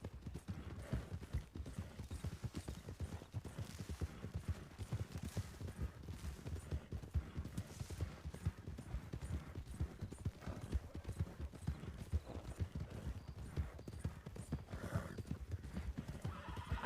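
Steady clip-clop of horse hooves during a ride in a Western roleplay video game, a continuous quiet rhythmic trot with an occasional whinny and some faint talking.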